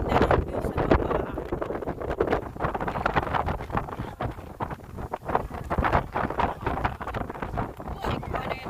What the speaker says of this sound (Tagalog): super ang hangin